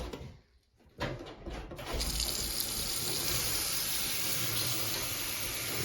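Tap water runs steadily into a sink as a dyed disc golf disc is rinsed, starting with a brief gush and settling into a constant loud hiss close by.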